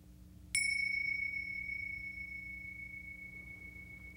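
A single bright bell strike rings out clearly in a quiet room, its pure tone slowly fading over several seconds.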